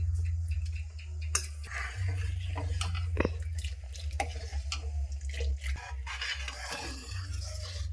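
Water pours and splashes into a pan for melting jaggery, a close gurgling trickle with scattered scrapes and a steady low hum beneath, quiet and with no talking.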